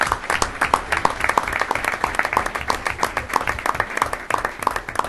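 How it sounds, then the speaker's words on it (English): Warm applause fills a village board meeting room in Westchester, Illinois: a dense, steady patter of many hands clapping at moderate volume for several seconds. "let's give him a good round of applause and welcome Dave"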